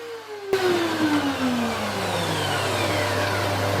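A wood thicknesser kicks on abruptly and settles into a loud, steady whining drone as rough-sawn boards, about 200 mm wide, are fed through and planed, with no voices.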